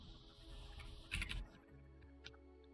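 Keys clatter on a new computer keyboard, a short quiet burst of typing with a cluster of clicks, then a lone tap over faint background hum.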